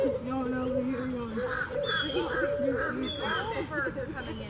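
Crows cawing repeatedly at a nature conservatory, harsh calls overlapping near and far while people talk in the background.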